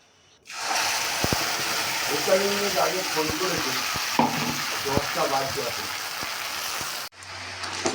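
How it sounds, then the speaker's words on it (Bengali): Spice paste of ground cumin poured into hot oil erupts into loud continuous sizzling and frying with stirring scrapes, then cuts off abruptly near the end. "তেলের মধ্যে এবারে মশলাটা আমি ঢেলে নেব"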